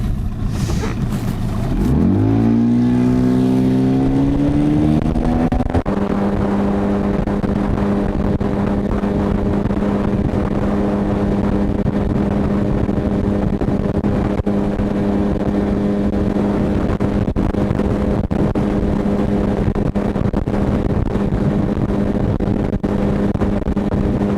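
An outboard motor on a Flagman 380 inflatable boat revs up with rising pitch to about 6100 rpm, then holds a steady, loud droning whine throughout, with wind and water noise.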